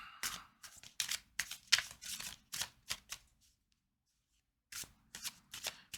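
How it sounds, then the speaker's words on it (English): Tarot cards being riffled and shuffled up close, a rapid series of crisp papery flutters, a short pause, then a few more bursts of shuffling, with no talking. "we're gonna pull cards"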